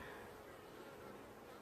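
Honeybees buzzing steadily and close around a swarm queen during queen marking, a continuous dense drone with no talk over it.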